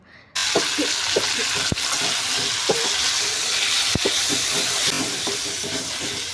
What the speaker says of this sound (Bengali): টমেটোটা আরও ভালোভাবে ভাজার পরে